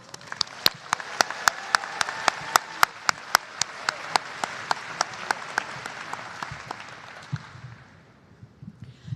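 A sustained round of applause from a convocation audience for campus leaders, dense clapping with sharp individual claps standing out, fading out near the end.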